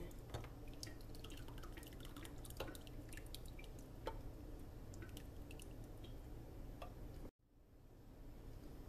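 Liquid pours steadily into a slow cooker with dripping, splashing sounds for several seconds, then cuts off abruptly into near silence.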